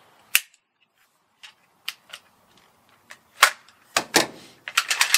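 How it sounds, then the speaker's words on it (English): The magazine is dropped out of a BM59 rifle in a burst of sharp metallic clicks and clacks, scattered at first and then quickly clustered, close by in a quiet room. "drop this mag out."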